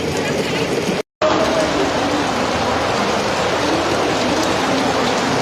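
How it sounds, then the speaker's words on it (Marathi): Heavy rain pours down in Kalyan Dombivli in a dense, continuous roar that fills the whole scene. The sound drops out for a moment near the start, then continues unchanged. "आज राज्यात ठिकठिकाणी पावसानं सकाळपासूनच जोरदार बॅटिंगला सुरुवात केलेली आहे"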